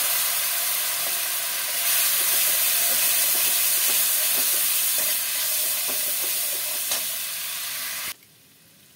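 Loud, steady hiss of water hitting hot frying spice masala of black cumin (kalonji), red chilli powder and turmeric in a pan, the sizzle running continuously with faint stirring scrapes until it cuts off abruptly near the end.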